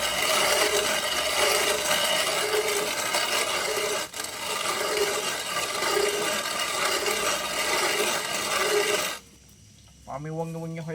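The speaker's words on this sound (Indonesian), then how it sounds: "Kemudian kita giling lagi" A manual coffee grinder churns continuously with a steady gritty rasp and a faint rhythmic pulse from each turn, then stops abruptly before a brief voice is heard.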